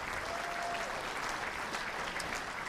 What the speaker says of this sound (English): give one more bit of a round of applause, please, for the volunteers